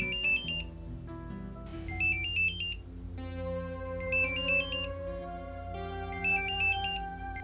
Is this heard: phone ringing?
yes